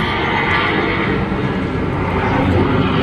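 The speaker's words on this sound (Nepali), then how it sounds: "ल प्लेन आइसक्यो त्यहाँ" An airplane flies overhead near Boudhanath Stupa, a steady broad engine roar that holds throughout. Voices are faintly audible beneath it.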